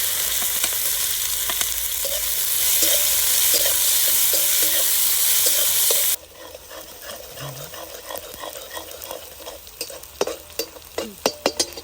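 Onion and ginger-garlic paste sizzle in hot oil in a kadai while being stir-fried; a dense, loud frying hiss at first, then a quieter sizzle punctuated by repeated spatula scrapes and clinks toward the end.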